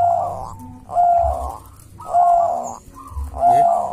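A dove coos in repeated soft, rolling phrases, about one per second, close and clear with no talking.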